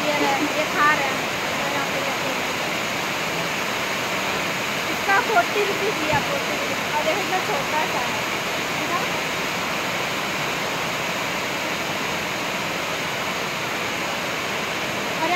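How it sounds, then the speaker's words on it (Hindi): Heavy rain pours at a railway station where a coal train stands, a steady, dense hiss filling the whole scene while someone talks over it. "यहाँ पे बहुत जोर जोर से बारिश हो रही है पूरा"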